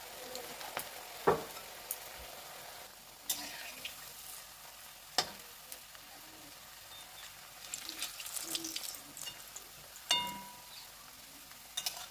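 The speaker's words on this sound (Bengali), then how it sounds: "একটু লাল লাল করে ভালো করে আমি ভেজে নেব।" Chicken pakoras with cabbage fry in oil over a low gas flame, a quiet continuous sizzle broken by scattered sharp taps and clinks from utensils, with no talking.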